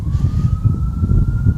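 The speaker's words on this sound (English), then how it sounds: "there goes the ambulance" An ambulance siren sounds at a distance as a steady, slightly rising tone, carried over a constant low rumble of traffic.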